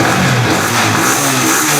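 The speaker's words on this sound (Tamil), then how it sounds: "இந்த வண்டி பாருங்கள் பக்காவாக ஸ்டார்ட் பண்ணி காமி." A 2020 Yamaha MT15 BS4 ABS motorcycle engine runs loudly and close, its steady rumble shifting slightly in pitch as it is revved, with no talk over it.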